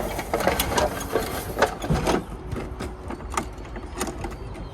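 An awning on a VW California Ocean campervan is wound in by hand, giving a close, continuous ratcheting and gear whir with a few sharper clicks and knocks, and no talking.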